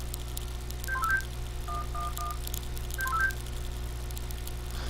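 Cell phone dialing tones in the Henry Stickman prison-escape game, short clusters of beeping keypad tones in two or three bursts over a steady low game hum.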